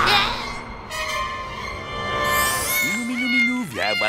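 Cartoon cat meowing, a drawn-out bright cry at the start followed by a wavering, whiny meow toward the end, with a character's voice speaking in between.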